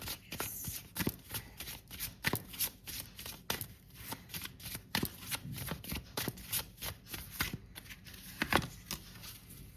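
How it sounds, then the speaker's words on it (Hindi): Tarot cards are shuffled and drawn by hand, giving a quiet, close series of quick riffling flicks and soft slaps that repeat in uneven bursts throughout. "मैं एक शैडो कार्ड और निकालती हूँ आपके लिए"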